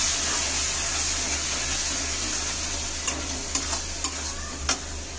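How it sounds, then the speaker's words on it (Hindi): Masala with a splash of water is stirred and sizzles in a pan for a green pea dal, giving a steady close frying hiss with a few sharp spoon scrapes toward the end, and no talking. "हल्का पानी डाल के चलाएंगे इसे क्योंकि नीचे जले ना लगे ना ये मसाला"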